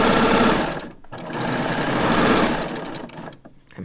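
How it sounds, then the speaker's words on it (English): A serger sewing machine runs in a steady fast whir while stitching a draw cord, pausing briefly near one second, then resuming and slowing toward the end; close and fairly loud, with no talking. "I'm holding it to the left and surging off, coming around and removing it."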